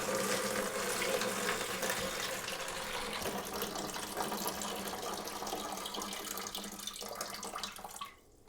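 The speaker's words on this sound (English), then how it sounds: "I am going to lift it up just to let all that water drain out" Water draining out of a lifted toilet tank part during a leaking-toilet repair, a steady close rushing and trickling flow that runs continuously before cutting off abruptly at the end.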